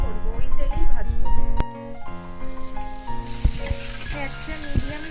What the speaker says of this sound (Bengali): এবার আমি বেরেস্তাটা করবো, ওই তেলেই ভাজবো।